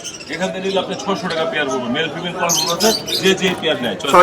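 Budgerigars chirp and squawk in rapid overlapping bursts at a busy pet bird market in Zinzira Bazar, Keraniganj, close and fairly loud, mixed with nearby people talking throughout.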